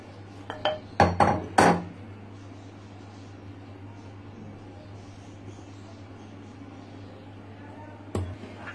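A burst of close clattering as a utensil knocks against a bowl while cake batter is mixed, several sharp clinks at the start, then a quiet stretch and one more tap near the end.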